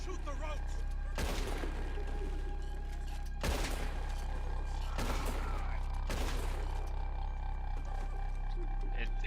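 In Red Dead Redemption 2, on the Isle of Guarma, three loud gunshots ring out a couple of seconds apart as ropes are shot. Each crack is followed by a decaying echo over steady ambient noise, with faint voices in the background.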